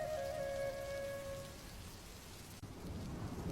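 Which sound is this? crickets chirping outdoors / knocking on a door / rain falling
rain falling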